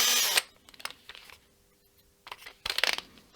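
A small drill fitted with a 1.5 mm bit boring pilot holes in a guitar body, in short bursts with brief pauses between them.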